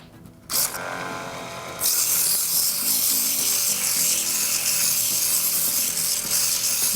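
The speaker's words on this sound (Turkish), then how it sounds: "Bu işlem için ise zımpara kağıdı kullanacağız." Hand sanding of a wooden rocket model with sandpaper, a steady close scratching rasp that starts softly and grows louder and brighter about two seconds in, then carries on evenly with no voices.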